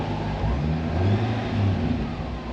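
A Pontiac GTO, back on the road after a year off, revs its engine through a brand new exhaust, a steady throaty mid-pitched drone that rises and falls slightly over a few seconds.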